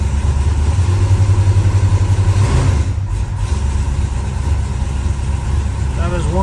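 A car engine starts and settles into a steady, loud idle, with a rhythmic low throb and a brief shift in tone partway through.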